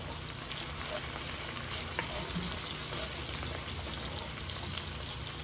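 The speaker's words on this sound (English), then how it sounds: "And then I'm going to add my sliced garlic." Sliced garlic frying in a pan of oil over medium-high heat, a steady, close, even sizzle that hisses on without a break, with no one speaking.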